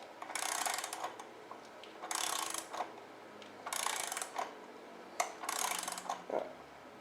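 An adapter tool is turned to loosen the drive belt on a Buell XB motorcycle, giving repeated bursts of clicking ratchet and mechanism sounds at close range. The bursts come in an uneven rhythm with short quiet gaps and no talking.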